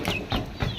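Domestic chickens clucking near a home while waiting to be fed rice, three short close clucks in quick succession, with no other sounds.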